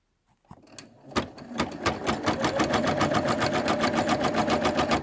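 An embroidery machine stitches a keychain design in black thread, starting with a few separate clunks and then settling into a fast, even, mechanical rattling rhythm, close-up and with no talking.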